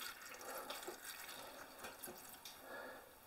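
Water is slowly poured onto a potted coleus plant indoors, a soft continuous trickle into soil and drip pan, close and fairly quiet with no talk.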